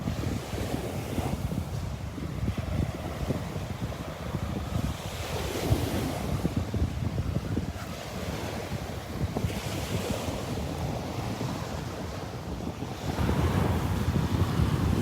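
Waves break and wash continuously on a churned-up beach at low tide, with steady roaring surf and heavy wind buffeting the microphone throughout.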